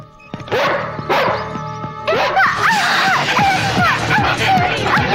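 A police dog barks in repeated loud, sharp bursts, some yelping and whimpering, with voices shouting and crying around it in a tense scene from a Tamil action film.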